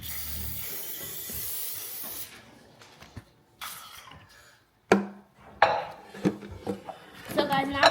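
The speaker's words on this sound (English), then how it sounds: "now spray some cooking spray." Cooking spray hisses from a can for about two seconds, loud and close, before the kitchen goes quieter with scattered clinks and handling knocks.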